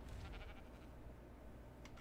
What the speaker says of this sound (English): So I found a whole bunch of sheep right over here